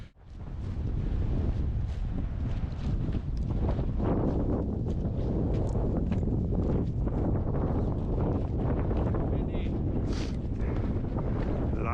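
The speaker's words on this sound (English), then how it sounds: "Lots of wind." Strong gusting wind buffets the microphone on a backcountry cross-country ski tour, a loud continuous low roar with fluctuating rumble and no pauses.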